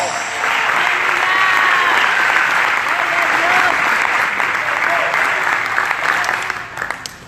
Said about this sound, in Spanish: Denle aplauso fuerte al Señor